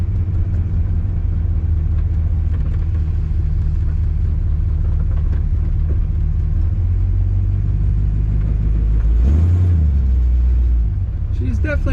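A 1955 Ford Crown Victoria engine runs during a drive, a loud, steady low rumble that swells briefly near the end, with a voice speaking over it.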